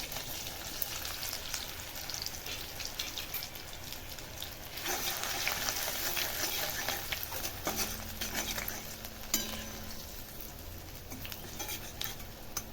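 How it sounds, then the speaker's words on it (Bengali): Garlic and ginger frying in a pan for spicy pasta, a continuous crackling sizzle with spatula scraping and stirring clinks throughout, growing louder midway. "দুটোকে একসাথে ভেজে নেবো একটুকু"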